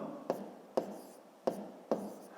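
A number being written by hand, probably pen on paper, heard as four short separate scratchy strokes, quiet and close, with no talk.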